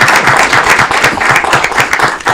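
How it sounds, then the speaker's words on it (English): Audience applause at a city council meeting in Aurora, Illinois, a steady patter of hand claps filling the room at moderate loudness with no voices over it. "If we can give him a round of applause."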